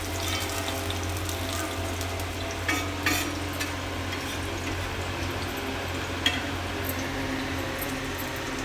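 Fish frying in oil in a home kitchen, a steady dense crackle holding at an even level throughout, close and fairly loud, with a few brief clinks and stirring scrapes and no talking.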